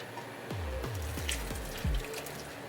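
Shrimp Thai curry being poured straight into a bowl of ramen noodles, several glugging liquid splashes in a quick uneven run, close and clear with no voices.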